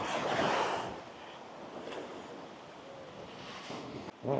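Surf rolling onto Sao Beach on Phu Quoc Island, Vietnam, a soft steady wash of waves mixed with light wind noise on the microphone, with one louder swell near the start.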